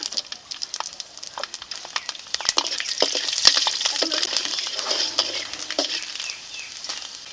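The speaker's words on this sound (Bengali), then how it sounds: "কুমড়ো শাকের ঝোল করার জন্য এই তেলে দিয়েছি রাঁধুনি দিয়েছি রসুন" Radhuni spice and garlic frying in hot oil for a pumpkin-greens curry, a steady crackling sizzle with scattered sharp pops and the occasional scrape of stirring, close and moderately quiet.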